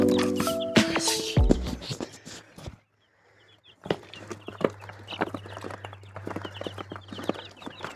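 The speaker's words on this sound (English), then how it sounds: "Daily dose of chicken noises." Backyard chickens cluck and chatter in short, irregular bursts close by, with a steady low hum underneath and a brief quiet gap early on.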